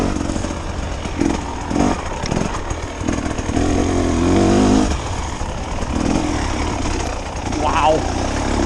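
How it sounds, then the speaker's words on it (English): A 2024 KTM 300 XCW two-stroke dirt bike engine lugs low and steady through a trail corner, a continuous close rumbling drone with small surges in pitch, running under a rider's voice. "listen to this motor. It's a thing of beauty."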